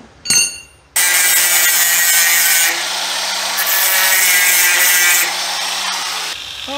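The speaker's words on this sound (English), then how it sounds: "Let me grind that smooth a little bit." Power grinder smoothing a fabricated metal part for a scratch-built rack and pinion system on a 1940 Chevy coupe: a loud, continuous, harsh whirring grind that holds steady for several seconds after a brief spin-up.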